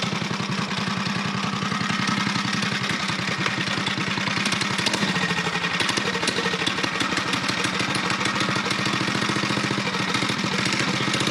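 A Super Bronc mini bike's small engine running steadily on a test ride, a continuous close, rapid chugging putter at a fairly even pitch.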